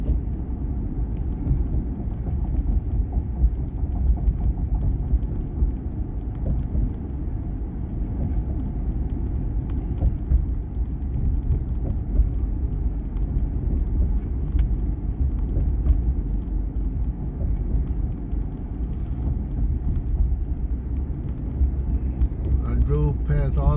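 Steady low engine rumble and road noise from a car driving along a city street lined with restaurants and shops, continuous and fairly loud throughout with no distinct passes.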